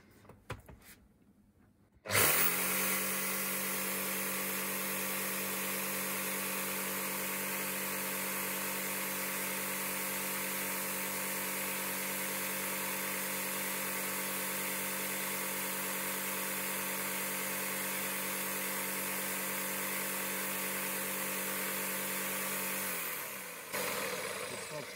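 A Makita JR3070CT reciprocating saw, rated 650 watts: a steady, loud motorized whine starts abruptly after a brief pause and runs continuously with a constant buzzing drone before cutting off near the end.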